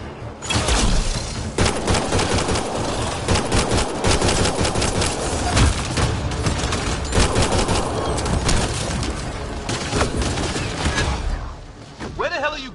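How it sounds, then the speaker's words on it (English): Dense, sustained gunfire from a sci-fi firefight in Mass Effect: Andromeda, with rapid bursts and automatic volleys going on almost without pause, loud and close, while voices shout beneath the shooting. "Just keep firing, we can do this!"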